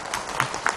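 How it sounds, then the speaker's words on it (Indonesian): A religious lecture audience gives a short burst of applause for a preacher, a brief wash of crowd clapping with a couple of slightly stronger claps. "tepuk tangan buat Ustadz Syam"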